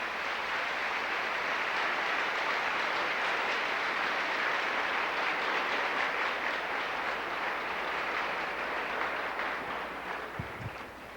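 A church audience applauds steadily, a dense, even wash of clapping that holds for several seconds before tapering off slightly at the end.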